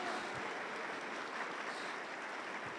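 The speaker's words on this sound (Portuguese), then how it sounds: "Vamos aplaudir ao Senhor por isso, glória!" A church congregation applauds during a sermon, a steady wash of many hands clapping together at a fairly soft, even level throughout.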